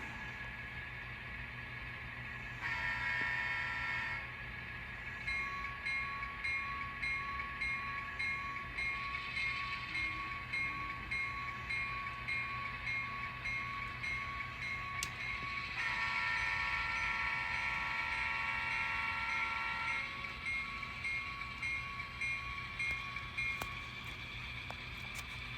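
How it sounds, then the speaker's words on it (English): An N scale model train runs steadily on a layout during an eastbound operating session, giving a continuous whirring and rolling hum with layered sound-system tones and periodic horn-like blasts, fairly quiet and with no talk. "the train is back together, so let's head east."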